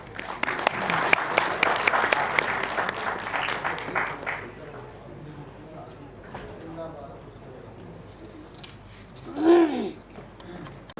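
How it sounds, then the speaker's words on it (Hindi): Audience applause welcomes a speaker at a Pakistani stage program, a dense burst of clapping for about four seconds that fades into murmur, with a brief voice rising near the end. "तालियों से इनका भरपूर इस्तक़बाल कीजिए।"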